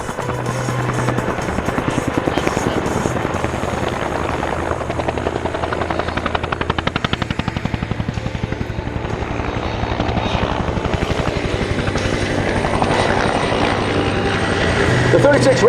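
A Bell UH-1N helicopter flying in a rescue simulation at the Skyfest 2022 airshow in Spokane, Washington, its loud, continuous rotor thump and turbine roar filling the whole stretch, close and steady.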